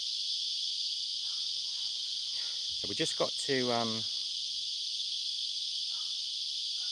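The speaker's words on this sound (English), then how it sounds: "they're loud, aren't they, those cicadas?" A loud, continuous high-pitched cicada drone fills the whole clip, with a person briefly speaking underneath it.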